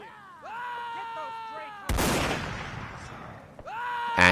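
One loud rifle shot cracks out in the Mount & Blade North & South line battle, with a broad, noisy burst that rings for almost two seconds. Before it, a voice is heard with music or tonal sound underneath, and another sharp report follows at the end.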